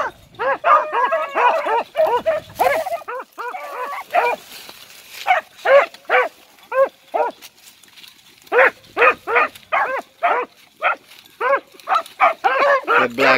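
Hunting hounds in a two-couple pack bark repeatedly, including a black field champion hound; sharp, loud barks come in dense bursts and rhythmic runs, with a brief lull midway and some talk mixed in early.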